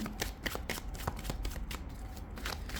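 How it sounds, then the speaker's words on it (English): A deck of tarot cards is shuffled close up, with quick repeated riffling and flicking bursts running continuously and no voices. "Let's pull some tarot."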